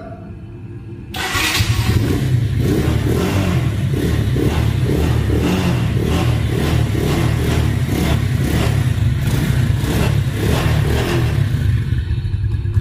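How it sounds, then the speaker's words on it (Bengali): A self-start motorcycle with a digital meter idles and runs close by, after a brief quieter opening. Its engine holds a loud, steady, pulsing drone. "গাড়িটা ভাই এখনো কিন্তু রানিংয়ে আছে, আপনারা রানিংয়েই দেখতে পাচ্ছেন গাড়িটা এখনো রানিং"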